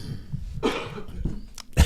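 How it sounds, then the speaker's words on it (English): A single short cough, fairly faint and in the background, followed by a sharper catch of breath at the end. "There was a cough in the background when I asked that."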